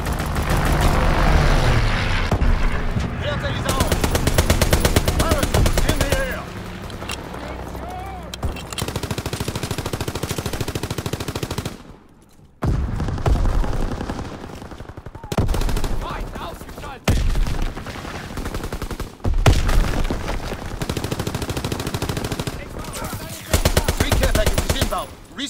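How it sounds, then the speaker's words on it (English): Dense, loud gunfire and rumbling explosions from a strafing run in the World War II shooter game Call of Duty: WWII on the Shipment 1944 map, sustained bursts broken by short gaps, with game voice lines mixed in. "Strafing run inbound!"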